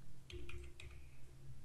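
The tab key is pressed on a computer keyboard while working in Word, giving a few quiet, close clicks over a faint background hum.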